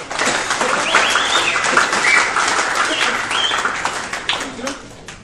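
Applause rises from the crowd at a school sports medal ceremony in Edirne, a steady wash of many hands clapping throughout, with bird chirps and scattered voices mixed in.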